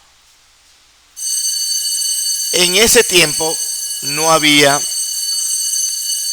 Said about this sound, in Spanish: ese es el timbre indicando cambio de hora aquí en el colegio